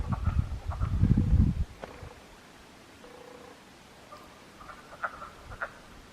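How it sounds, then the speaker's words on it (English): Frogs croaking on a ridge outdoors in the mountains, a loud burst of low rattling croaks at first, then scattered fainter distant calls against quiet background. "These old frogs carrying on."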